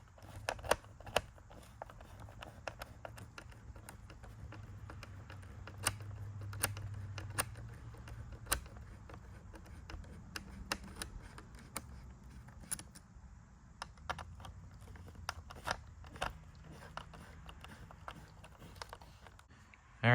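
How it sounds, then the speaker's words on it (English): Screws holding a Maisto 1957 Corvette 1/24 scale model to its base are unscrewed in a quiet series of small, sharp ticks and clicks spread unevenly across the clip, with low handling noise underneath. "Looks like it's going to be held down by 2 screws. So we'll get those unscrewed next"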